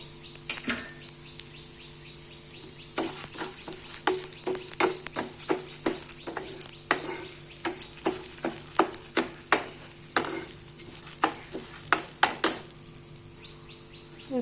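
Urad dal roasts in a pan for moringa powder. A constant hiss sits under a long run of quick, rhythmic spatula scrapes and light taps against the pan.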